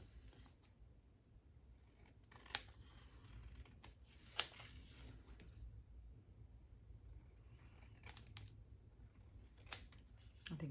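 Scissors cut out paper ephemera for a craft project, giving a few quiet, sparse snips and clicks against a low background hum, with no speech.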